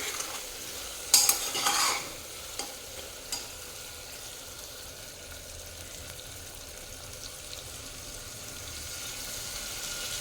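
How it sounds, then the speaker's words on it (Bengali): Mutton with whole garlic cloves being stirred in a frying pot, a brief burst of scraping and clattering near the start, then a faint, steady low sizzle continuing on its own. "রসুনটা দিয়ে আরেকবার একটু নাড়িয়ে দিই"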